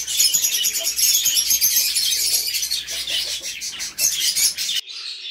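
Budgerigars and other parrot-type birds chirp and twitter continuously while bathing, their bright, high calls close and busy, with splashing and rustling underneath, then a sudden drop to quiet near the end.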